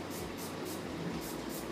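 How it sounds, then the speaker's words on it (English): A spray bottle of alcohol is spritzed onto a batch of rosemary pepper soap, several quick hissing bursts repeating in a steady rhythm, close and fairly soft. "I'm going to spray it with alcohol."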